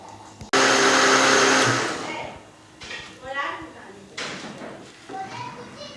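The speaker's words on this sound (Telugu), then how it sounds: "కొద్దిగా వాటర్ వేసి మిక్సీ పెట్టుకోవాలి" A mixer grinder starts abruptly and whirs loudly as it grinds roasted masala with a little water for mutton curry, stopping after about a second and a half, followed by quieter kitchen sounds and voices.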